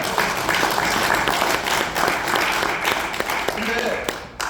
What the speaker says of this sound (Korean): 제 말이 맞다고 생각하시는 분들은 박수 한번 주시기 바랍니다